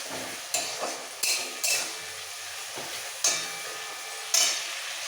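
Spice paste for an onion-and-cabbage dish is stir-fried in a pan, with quiet sizzling broken by a few sharp scrapes and taps of the stirring spoon.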